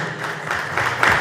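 A church synod gathering's audience applauds its facilitators, a broadband patter of clapping that starts softly and swells louder toward the end of the short burst.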